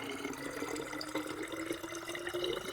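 Water poured through a funnel into a bottle while making homemade orange soda, a steady close trickling and gurgling stream that runs continuously without talk.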